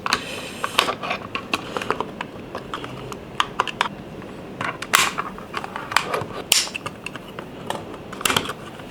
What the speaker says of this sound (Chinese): 直接拿这个撬棒去撬啊